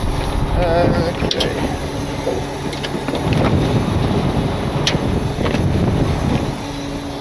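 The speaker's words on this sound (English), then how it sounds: "Man, it is windy" Strong wind gusting outdoors beside a van on a slushy winter road, a continuous roar buffeting the microphone, with one brief spoken word.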